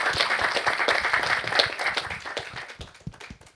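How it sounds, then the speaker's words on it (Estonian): An audience at a cybersecurity debate gives the four experts on stage a dense round of clapping, steady at first and then thinning into scattered claps toward the end. "teeme ühe suure aplausi meie 4 eksperdile siin laval ka"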